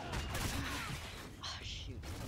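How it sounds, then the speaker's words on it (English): Rapid gunfire from assault rifles in Call of Duty Ghosts crackles in a dense, loud burst, with sharp impacts and clatter layered throughout and a brief higher-pitched ring near the end. "Two guys are shooting at me"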